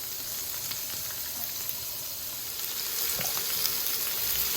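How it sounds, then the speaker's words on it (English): Peppers cooking down in a pan with sesame oil, giving a steady, even sizzle and hiss that holds close and constant throughout, growing slightly louder toward the end, with faint scraping ticks and no voices. "So we have some peppers going in. Start to cook those down just a little bit"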